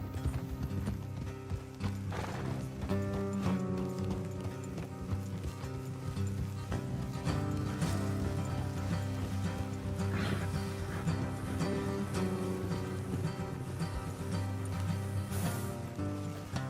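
Steady clip-clop of horse hooves walking at an unhurried pace in the video game Red Dead Redemption 2, set against continuous background music.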